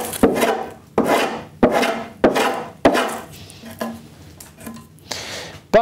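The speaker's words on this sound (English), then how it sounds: "I'm just gonna work it down with the block plane." A block plane smooths chisel-marked wood on an already assembled case, making a series of about six rhythmic rasping strokes, close and fairly loud, each starting sharply and trailing off, with no talk.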